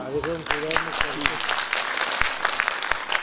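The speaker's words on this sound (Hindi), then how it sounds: "आप जोर से ताली बजाओ ना" Loud audience clapping at a Hindi-language gathering about Buddhist culture and a property in Bodh Gaya, sharp uneven claps building into a crowd after a voice briefly talks at the start.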